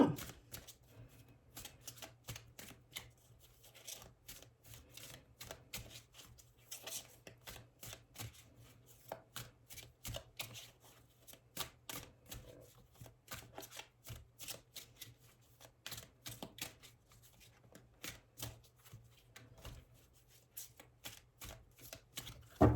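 Tarot cards being cut and shuffled fill the stretch with a steady run of quiet, close, papery flicks and riffles, soft and continuous with no voices.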